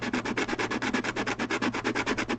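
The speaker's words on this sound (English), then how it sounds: "we're going to start sanding away" Rapid rhythmic sanding strokes on a violin bridge, a steady back-and-forth scraping of about eight strokes per second, close by and continuous.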